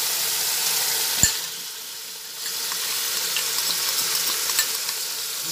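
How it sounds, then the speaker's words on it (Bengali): Yogurt spice paste with turmeric, cumin and coriander is poured into a hot pan of chhana, giving a steady, loud frying sizzle with a sharp clack as it goes in, then continuing hiss and faint stirring. "দই দিয়ে যে পেস্টটা রেডি করেছিলাম সেটা এর মধ্যে ঢেলে দিচ্ছি।"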